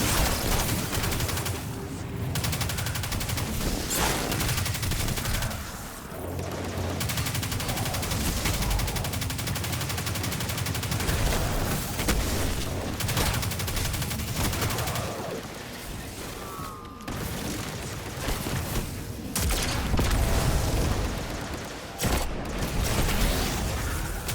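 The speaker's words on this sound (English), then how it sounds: "Again, shooting these guys that are tethered so that it can get onto the other guys" Dense gunfire in the Destiny video game while shooting tethered enemies: continuous rapid shots, impacts and bursts in a loud, crowded battle mix, near and relentless with brief dips.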